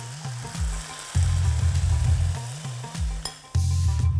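Vegetables for veg Manchurian sizzle loudly as the sauce mixture is poured in and stirred, with a steady close frying hiss and repeated low scraping thuds of the spoon against the pan, no voices.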